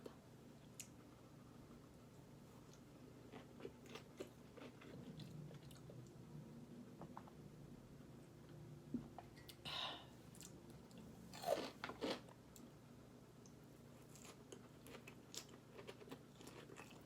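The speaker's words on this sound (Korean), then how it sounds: "일식집에서 이 초절임 생강 쇼가라고 하는데 이걸 진짜 좋아합니다. 먹겠습니다." Pickled ginger (gari) is bitten and chewed up close, with soft wet crunches and squishy chews scattered across a quiet room and a few sharper bites in the middle stretch.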